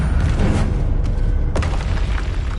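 Fire-blast explosions from the Confringo spell in Hogwarts Legacy on PS5: several loud, booming bursts punch through dense, continuous game-battle noise over a few seconds.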